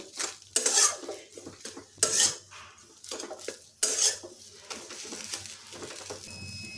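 Banana flower and potato filling being stirred and fried in a pan for a vegetarian chop, with bursts of scraping spoon-on-pan strokes and clinks over a faint sizzle, close and fairly loud.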